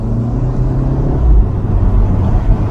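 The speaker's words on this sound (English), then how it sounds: "Let's do a little hard acceleration." A Volkswagen Eos hardtop convertible with a 2-liter four-cylinder engine under hard acceleration, a steady low engine drone and road rumble that swells briefly mid-way, heard from inside with no talking.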